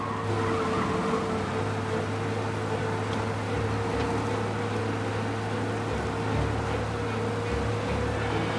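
A car in the Mafia video game speeding away from police, a steady loud engine drone with rumbling road noise and occasional tire scrubs running throughout, no voices.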